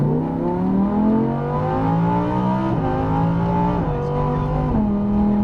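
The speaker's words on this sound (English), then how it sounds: "Look down the straightaway, and full throttle." A Lamborghini Huracan at full throttle on a track, the engine howling upward through several rising pulls with quick upshifts between them, loud and close from the cockpit with faint voices beneath.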